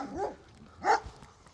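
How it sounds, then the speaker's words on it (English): A dog met on a walk gives two short, fairly faint barks or yips about half a second apart, heard at some distance with no talking. "here's a dog."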